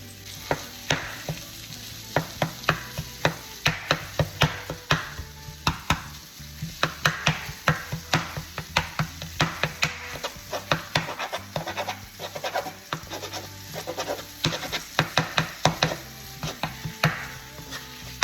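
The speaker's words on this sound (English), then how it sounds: "now that we have sauteed down everything, we're gonna go ahead and add in our vegan sausage" Vegetables and Impossible vegan sausage sautéing in a pan, heard as a soft steady sizzle with frequent sharp clicks and taps of a utensil stirring against the pan, close and without speech.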